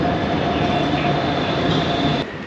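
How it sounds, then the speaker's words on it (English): A tram passes on the streets of Sofia, Bulgaria, with a loud, close, continuous rumble and hum of steel wheels on rails and faint tonal whine, easing slightly near the end. "You wait ages for a tram, then three pass at once, honestly."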